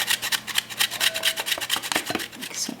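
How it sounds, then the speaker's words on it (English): Fresh ginger is rubbed against a kitchen grater in quick, rhythmic rasping strokes, about a dozen close scrapes in under three seconds with no talking. "just put it on your grater, and as you can see, just grate off, eyeballing about a teaspoonful, not a tablespoonful, of fresh or ground ginger"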